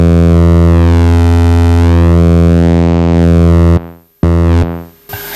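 Behringer TD3-MO synth played through a distortion pedal with the gain turned up, a loud sustained buzzy tone with sweeping harmonics that cuts out abruptly, then returns with hiss and noise.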